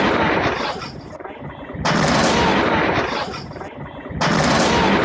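A heavy explosion roars in long rumbling surges, with loud broadband blasts near the start, around two seconds and again past four seconds, easing slightly between them.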